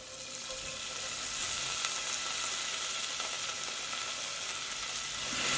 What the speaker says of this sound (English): next I'm going to be adding my dark soy sauce